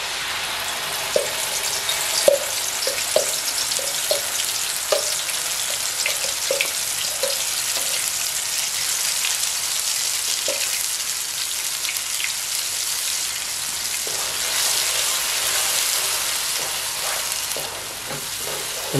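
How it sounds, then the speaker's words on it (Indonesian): Spices for coconut milk tempeh sautéing in hot oil in a pan, a steady close sizzle and crackle with scattered small pops throughout, no voices. "Bumbunya kita tumis dulu."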